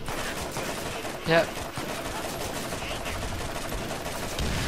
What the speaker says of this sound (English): I'm just gonna open fire at the Void Rage Psycho